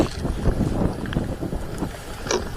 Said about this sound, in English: Oh, it's windy here as well, man.